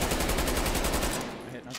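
Rapid automatic gunfire in Black Ops Cold War during a 2v2 Search and Destroy match, shooting through a wall in a fast, loud, close burst that tapers off near the end.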